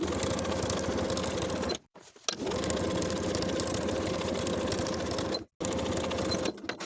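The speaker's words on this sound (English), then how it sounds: "we're going to sew that outer material to the seam allowance underneath" A sewing machine stitches a cardigan's outer material to the seam allowance in three close, steady runs, each broken by a brief pause.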